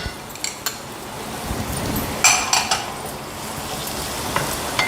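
Chopped vegetables, including finely cut beans, are stir-fried in a pan for vegetable fried rice, a continuous sizzle with metal utensil clinks and scrapes against the pan, close and fairly loud.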